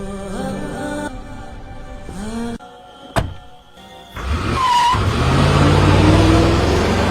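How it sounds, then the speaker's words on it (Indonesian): A car pulls away, with a door thunk and brief clatter before the engine rises into a steady, loud rumble that carries to the end. "Pak Serip memborgol Abah ke mobil dan membawa dia ke pabrik narkoba"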